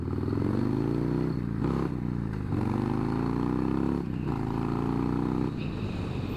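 A Harley-Davidson motorcycle being ridden, its engine droning steadily up close with rising and falling pitch as it shifts through gears, plus wind and a few brief dips in loudness.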